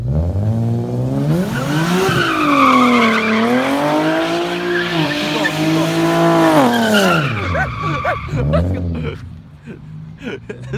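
Infiniti G37 doing a burnout: loud, sustained tire squeal with wavering pitch over a revving engine, up close, trailing off into lower rumbling and a voice near the end.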